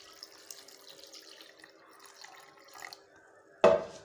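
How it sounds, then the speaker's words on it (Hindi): Water is poured from a tap over cut potatoes in a bowl to wash them: a quiet stretch, then a sudden loud, close gush of running water near the end. "पानी डालेंगे और इसको अच्छी तरह हमने धोना है"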